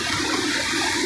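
Kozhikarai waterfall in heavy flood after rain, a steady, loud roar of rushing water filling the whole span without a break, with no voices.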